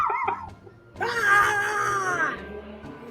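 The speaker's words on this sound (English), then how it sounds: "anytime we say good, everybody's got to scream" A group of people on a cigar lounge show scream together on cue, a loud, sustained burst of overlapping voices lasting over a second after a brief spoken word, then trailing off.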